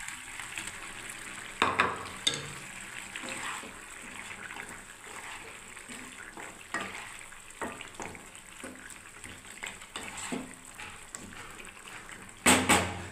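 Masoor dal fritters dropped into a nearly finished vegetarian ridge gourd curry in a pan, giving a steady soft sizzle and bubbling with scattered stirring scrapes and a few louder clatters near the end, no talking.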